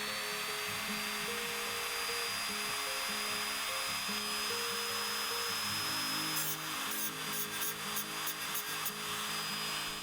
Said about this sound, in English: I quickly graduated to a 120 grit sandpaper wheel on the Dremel